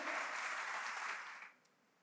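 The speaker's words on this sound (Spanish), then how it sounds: "Dele un fuerte aplauso al Señor en esta noche." Church congregation applauding during a sermon, a steady, faint wash of many hands clapping that fades out after about a second and a half.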